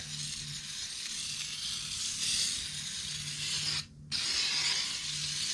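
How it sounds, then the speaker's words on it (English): A steady, close hiss of cleaner sprayed on a 1970 Cadillac DeVille whitewall tire, running continuously, broken once by a brief pause before resuming. "Spray it up here."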